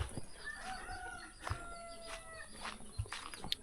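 Chickens clucking and calling in a Lao forest village, soft and somewhat distant, with scattered short clucks and a few brief cries over quiet rural background.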